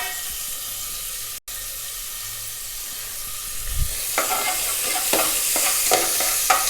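Chopped onions drop into hot oil for mutton sambar and begin sizzling, a quiet kitchen hush giving way to a rising, steady fry with intermittent stirring scrapes in the pan.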